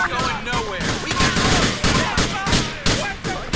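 Rapid overlapping gunfire in a Grand Theft Auto terrorist attack set in Liberty City, loud close bursts of shots fired in quick succession with faint voices beneath.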